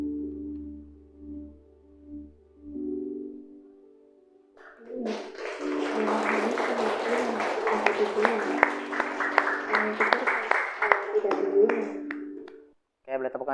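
A steady hum drops away and a large indoor audience breaks into applause at a training event, a dense, sustained wash of clapping lasting several seconds before it cuts off abruptly.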